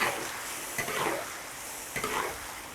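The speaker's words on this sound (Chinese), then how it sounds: "破转炒一下，等它炒入味儿" Lotus root slices and konjac are stir-fried in a wok for a dry-pot frog dish, giving a steady close sizzle with two bursts of spatula-stirring scrapes, and no voices.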